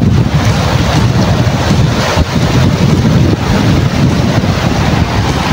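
Strong river current of the Karayan in Abra rushes loudly and continuously, a dense broadband roar of churning water mixed with wind buffeting the microphone.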